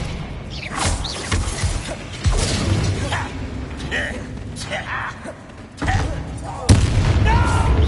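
Confringo spell explosions from Hogwarts Legacy burst repeatedly amid combat, several sharp booms and crashes of varying loudness, mixed with spoken lines and battle noise.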